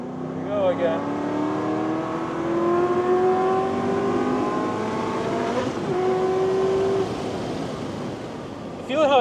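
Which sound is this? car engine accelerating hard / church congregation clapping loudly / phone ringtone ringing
car engine accelerating hard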